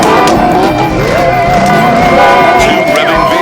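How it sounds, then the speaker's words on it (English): Two V8 car engines revving hard, loud and continuous at close range, with a high squealing whine and alarms sounding on top during a Bonfire Night outing. "Two revving V8s and the alarms went berserk."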